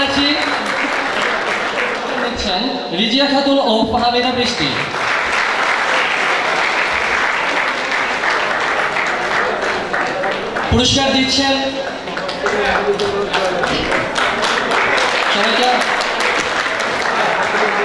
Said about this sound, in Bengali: সবাইকে করতালি দেওয়ার জন্য আহ্বান জানাচ্ছি।